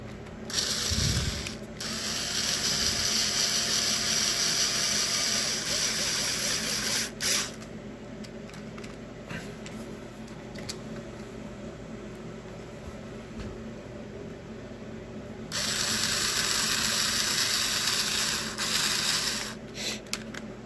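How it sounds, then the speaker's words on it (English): Screws are driven back into a Red Cat nitro RC car, making a close, steady mechanical ratcheting whir that runs on and off for the whole stretch. "I'll put these screws back in"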